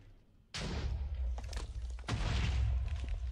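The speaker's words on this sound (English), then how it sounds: "Why am I hearing explosions?" Explosions in the Minecraft FTB Skies modpack land as two heavy booms, the first sharp one followed by a second about a second and a half later, each leaving a rumbling tail.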